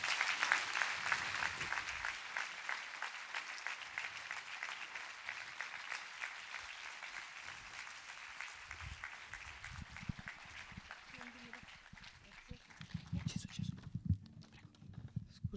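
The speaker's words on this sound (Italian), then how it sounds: "chiedo un applauso" An audience applauding at an evening concert of the Solisti Veneti Ensemble, a fast, dense clatter of clapping that slowly thins and fades, with some voices and stirring near the end.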